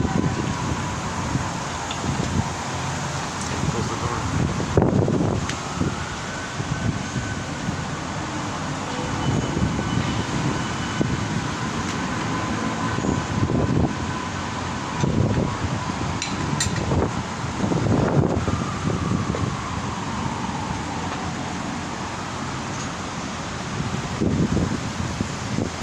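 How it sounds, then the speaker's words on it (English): Strong wind gusts sweep through trees for a long stretch, a continuous rushing and rustling roar with buffeting bursts against the microphone and no talking. "It's suddenly getting very windy."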